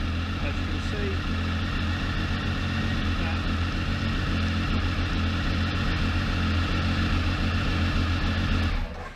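A Triumph Tiger 955i motorcycle engine idles with a steady, close, continuous hum, then cuts out abruptly at the end.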